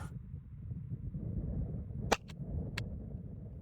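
A single sharp, quiet crack from a budget $100 rifle, followed by a couple of fainter clicks of the action, all over a steady outdoor background hum.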